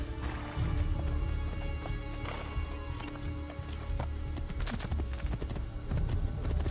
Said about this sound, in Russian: Вот есть лошадка.